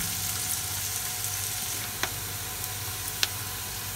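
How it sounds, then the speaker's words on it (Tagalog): Chopped onions, added after garlic, sizzle in a pan for pancit palabok: a faint, steady hiss with a few sharp pops and crackles, and no voices. "Gisa lang po natin mabuti hanggang sa mag-reduce po ng liquid ang sibuyas."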